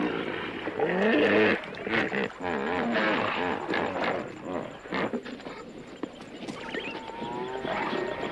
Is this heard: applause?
no